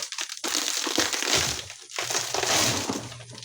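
Glass from a flat screen TV snapping and crunching as it is held and bent during teardown, a continuous loud crackling and crushing with sharp splintering bursts, close up and without talk.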